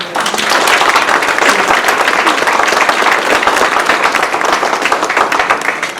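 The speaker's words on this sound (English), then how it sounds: "Bertram, Alisa, Miss Allison, and Brant a round of applause." Sustained audience applause fills a hall at a foundation gala, dense and fairly loud clapping that rises quickly and holds steady for several seconds.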